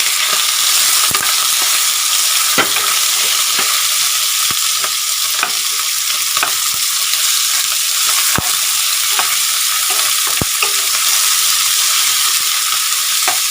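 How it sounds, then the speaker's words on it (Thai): Pork neck frying in a wok with garlic, a loud, steady sizzle throughout with occasional sharp clicks and scrapes of stirring, no voices. "ใส่หมูลงไปผัดเลยค่ะ"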